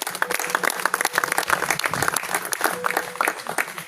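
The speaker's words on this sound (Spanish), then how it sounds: "Denle un aplauso al Señor." Church congregation claps together during a Christmas worship service, a moderately loud burst of applause mixed with crowd noise and rhythmic hand claps, with some voices heard underneath.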